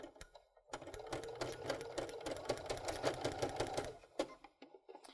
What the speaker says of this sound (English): this is going to take one tuck every 6 stitches.